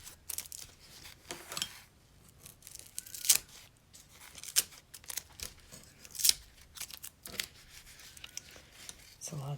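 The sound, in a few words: removing sewing tape from a quilted purse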